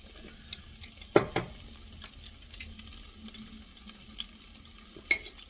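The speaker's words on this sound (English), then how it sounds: "Have that sauteed a little bit so it's not going to be raw." Garlic sautés in a pan for a curry, a faint steady sizzle broken by several sharp stirring scrapes and utensil knocks against the pan, with no talk.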